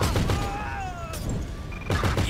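Machine gun fire from Trevor's weapon in GTA 5: dense, continuous bursts of rapid shots, loud and close, with a brief lull midway before another heavy burst at the end.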